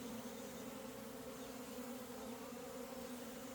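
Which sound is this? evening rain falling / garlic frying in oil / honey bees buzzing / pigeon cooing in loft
honey bees buzzing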